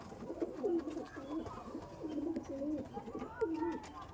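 Pigeons in a loft coo close by in a string of repeated low, throaty calls, several phrases in a loose rhythm over a quiet background.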